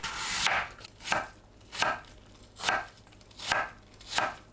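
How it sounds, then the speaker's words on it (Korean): A knife julienning an apple on a cutting board: six crisp, close chops spaced at an even rhythm, with quiet gaps between them and no talking. "사과를 채 썰어 줍니다"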